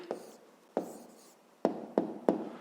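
A pen or pencil writes down a maths answer in five short, distinct scratching strokes, close and fairly quiet, with gaps between them and no voice.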